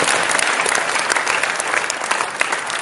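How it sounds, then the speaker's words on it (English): An audience at a talk applauds after a short piano piece, a dense burst of clapping that holds steady for a few seconds with no voices over it. "that was rather appropriate applause"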